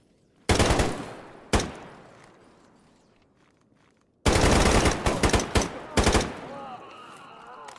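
Sharp gunshots ring out in STALKER GAMMA: two single cracks with echoing tails, then a loud, longer burst of rapid automatic fire with several close shots at the end.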